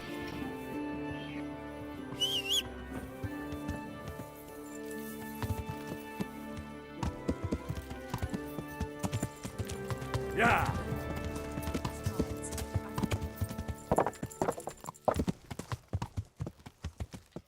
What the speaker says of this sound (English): vamos pegar o cavalo e vamos lá